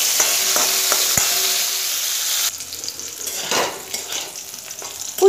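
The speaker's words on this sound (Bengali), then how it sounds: "ফুলকপিটাকে দিয়ে এবার ফুলকপিটাকে আগে ভালো করে ভেজে নেব।" Cauliflower florets rubbed with salt and turmeric fry in hot oil, a continuous close, loud sizzle that eases slightly partway through as the pieces are stirred, with no talking.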